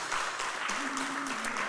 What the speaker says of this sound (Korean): 우리 박수로 환영하시겠습니다